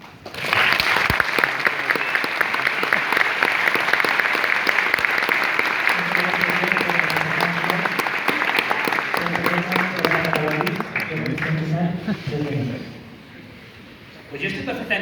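Audience at a debate on the relevance of Marxism bursting into sustained loud applause, with a voice starting to speak over the clapping as it gradually dies down.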